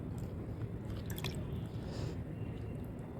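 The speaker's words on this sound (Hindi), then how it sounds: "अब थोड़ा थोड़ा करके इसमें पानी डाल देती हूँ।" Water trickles bit by bit into chalk powder in a bowl as it is mixed into a wet paste for whitewashing a homemade clay stove. Soft, close drips and wet squishing sit over a steady background hiss, with no talking.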